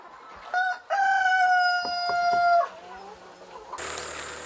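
Rooster crowing loudly and close at a poultry farm with tens of thousands of chickens, a long drawn-out call followed by softer clucking and hen noise in the background, with no talk.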